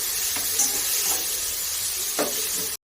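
Onions sauté in a pan for a chicken kuzhumbu, with a steady close hiss and sizzle and a few soft stirring scrapes, ending abruptly in silence.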